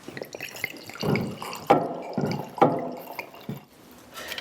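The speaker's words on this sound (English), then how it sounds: "why don't you pour us some wine out and serve us up our dinner" Wine poured at a dinner table, a soft trickling splash with a few sharp drips and clinks over a few seconds, close and fairly quiet.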